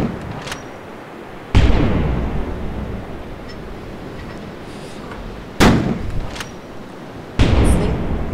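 Cannon fire aimed at merchant ships in the VR naval game Iron Wolf VR: three loud, sharp booming shots spaced several seconds apart, each followed by a rumbling decay over a steady engine-like drone.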